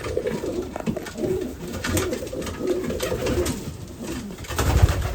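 Mixed fancy pigeons cooing in a loft or coop in Canada, several birds overlapping in a steady low murmur of coos with soft rustling, close and moderately loud throughout.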